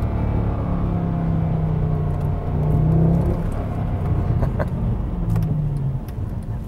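A 2010 Mercedes-Benz E63 AMG V8 rumbles steadily and close, its deep engine note swelling briefly as it downshifts, with the tone shifting through the gear changes and no voices.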